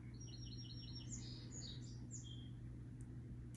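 Several quick high chirps and tweets from a bird, faint and somewhat distant over a low steady background hum, with no talking.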